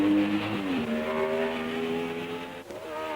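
A 1960s Formula One racing car at the Rouen French Grand Prix roars steadily at high revs with a sustained engine note, briefly dipping as it shifts before climbing again, loud and close without voices.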